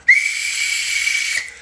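A shrill, steady whistle in a loud football-match setting during a PSG versus Lyon Coupe de France final, starting sharply and holding one high tone for over a second before cutting off, with no talk over it.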